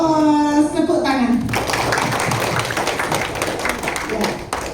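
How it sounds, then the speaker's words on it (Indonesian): Congregation clapping hands together during a church worship service, a dense steady patter of many hands after a short spoken lead-in, fairly loud and continuing to the end. "Tepuk tangan."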